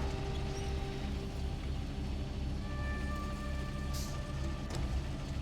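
Rain in the SnowRunner off-road truck game, a soft continuous hiss of falling rain with a low rumble beneath and faint tonal hums, steady throughout.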